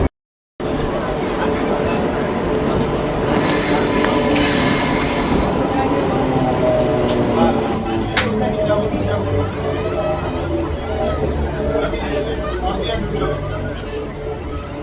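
A local passenger train rumbles along the rails as it arrives at Sardiya station on the Khemasuli–Jhargram line, with continuous loud rolling noise, a brief high wheel squeal partway through, and crowd chatter underneath.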